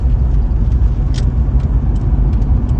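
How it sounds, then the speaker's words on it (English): A car drives past on a street at an intersection, a loud, close, steady engine and tyre rumble with a faint higher hiss across the pass. "car passing me at the intersection again."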